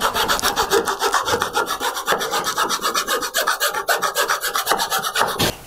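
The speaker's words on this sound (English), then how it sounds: "I'm going to keep coming at this with finer and finer files until I get a really nice, smooth, clean surface" A file rasps back and forth across the mouth of a wooden low angle jointer plane, quick regular strokes, close and loud, with no voices.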